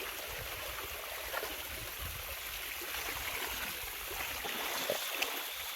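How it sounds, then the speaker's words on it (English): Coconuts are washed outdoors while cooking in the bush. Water splashes and trickles continuously at a soft level, with faint rustling and no voices. "Time to wash the coconut"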